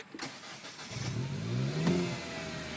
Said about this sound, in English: I'm going to hold down the throttle, and I'm going to try to start it again